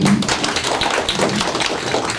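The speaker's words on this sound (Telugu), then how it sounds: "గట్టిగా క్లాప్స్ కట్టండి." An audience claps at a movie trailer launch and press meet, a steady patter of many hands applauding close by for a couple of seconds with no talking.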